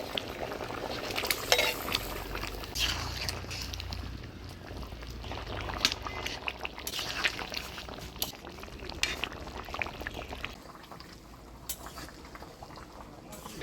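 Fried fish pieces are slid into a boiling Bengali fish curry with potatoes, a steady bubbling and sizzle broken by scattered clinks and scrapes of a utensil against the pot, with faint talk in the background.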